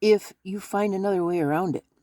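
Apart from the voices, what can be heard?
No everyday noise stands out behind the speech.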